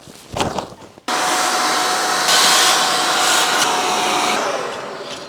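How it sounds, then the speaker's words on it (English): A vacuum cleaner switches on abruptly and runs loudly with a steady roar and a faint whine while cleaning out a wood burner, after a brief clatter at the start. "And I will give it now a good clean with a hoover"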